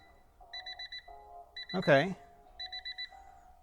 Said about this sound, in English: Apologies for the beeping of the car door alarm